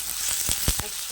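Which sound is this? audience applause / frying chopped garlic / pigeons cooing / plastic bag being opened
frying chopped garlic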